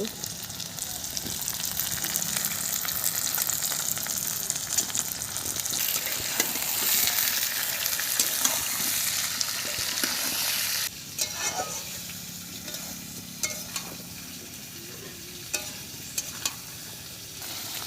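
Potatoes dropped into hot oil with onion, bay leaf and dried chilli, frying with a steady close sizzle and bursts of stirring, the hiss easing a little partway through.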